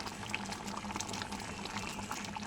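Jute leaf dal simmers in a pot with a steady, soft bubbling hiss that keeps up without a break, faint and close, with no voices over it.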